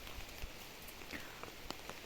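Light rain patters steadily on a surface, faint and even throughout, with a few slightly sharper drops standing out.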